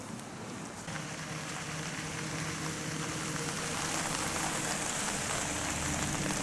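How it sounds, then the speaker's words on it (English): Steady rain pours down at a campsite, a dense continuous hiss of drops hitting surfaces, growing slightly heavier after the first second with no voices. "It had begun to rain,"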